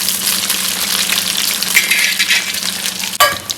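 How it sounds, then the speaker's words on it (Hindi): Pointed gourd (parwal) pieces fry in a pan with a loud, close, continuous hiss and crackle of hot oil, ending in a sudden clank of stirring. "यहाँ पे परवल फ्राई हो रहा है"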